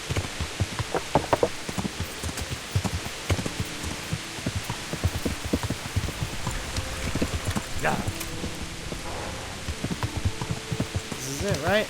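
Steady clip-clop of horse hooves in a rhythmic trot in the video game Kingdom Come: Deliverance, fairly close, over soft ambient noise, with a brief spoken word.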